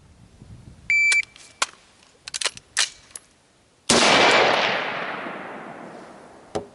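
A 13.7-inch AR-15 with an ACOG fires a handful of sharp, loud shots with irregular spacing, followed by one big blast whose ringing tail fades over a few seconds, then a final short crack, with no talking.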